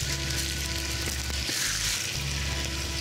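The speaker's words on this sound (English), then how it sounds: "Hear that sizzle?" Garlic cloves sizzle steadily in a hot pan during home cooking, a close, continuous frying hiss with no pauses and no talking.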